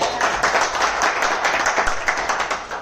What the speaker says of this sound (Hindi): तो तालियां होनी चाहिए